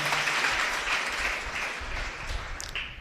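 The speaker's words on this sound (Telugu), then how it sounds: "చప్పట్లు కొట్టండి" A church congregation claps hands together during a sermon on the resurrection, producing a dense, steady burst of applause that fills the room for about three seconds with no talking.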